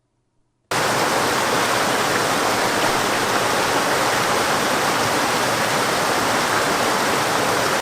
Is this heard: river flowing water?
yes